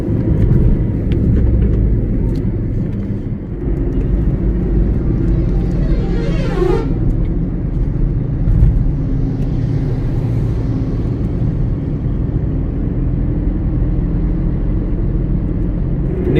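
A car cruises along a national highway in India, a steady loud engine and road rumble throughout with a brief rising whoosh of another vehicle passing midway.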